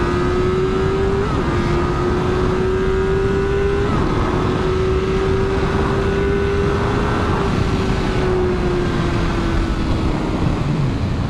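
A Honda CBR600RR sport motorcycle accelerating, a loud close engine drone holding a steady pitch that dips briefly at gear shifts, with heavy wind rush throughout.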